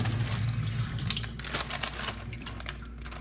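Water sloshes and splashes in a bag holding cleaned crappie fillets as it is shaken, with loud, quick splashing bursts that ease into softer trickling.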